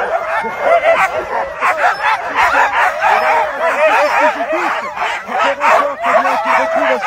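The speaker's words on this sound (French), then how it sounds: "Les chiens ont un degré d'excitation qu'ils n'auront jamais vu sur la course." Sled dogs at the start of a race stage in Bessans bark, yip and whine nonstop, a loud, close, overlapping chorus that barely pauses.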